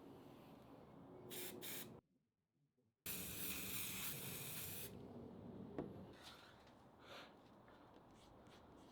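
Several bursts of fixative spray hiss over a finished drawing, a couple of short puffs followed by a longer sustained spray after a brief pause, close and fairly loud.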